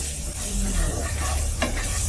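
Ginger garlic paste is stirred in a hot pan with shrimp and taro greens, and it sizzles and hisses loudly and steadily. One brief scrape of a spoon cuts through the frying noise near the end.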